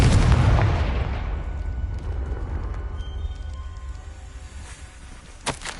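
Confringo fire spell in Hogwarts Legacy bursting into a loud, close, deep explosion that rumbles and fades over several seconds, followed by a faint crackle and a brief thump near the end.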